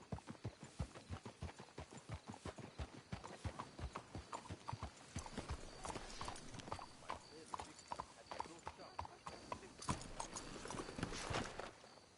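Steady clip-clop of horse hooves trotting in an even rhythm in the video game Red Dead Redemption, continuous and fairly close, with faint scattered noises mixed in.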